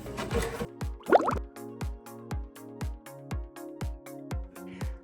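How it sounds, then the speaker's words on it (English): Water drawn out of a planted pea puffer aquarium tank: a brief gurgle and splash, then a steady run of evenly spaced plops and drips, close and clear with no talking. "I started off taking some of the water out of the tank"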